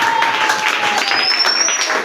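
A church congregation breaks into brief, dense applause, steady clapping filling the room with a sustained tone running underneath.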